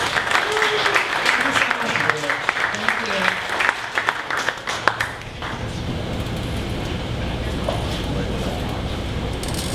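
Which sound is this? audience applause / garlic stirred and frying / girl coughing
audience applause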